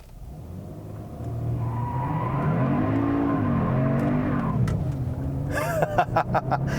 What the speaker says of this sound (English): Didn't think you could do a burnout in a Genesis, did you?